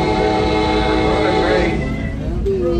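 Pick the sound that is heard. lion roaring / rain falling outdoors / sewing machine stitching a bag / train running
train running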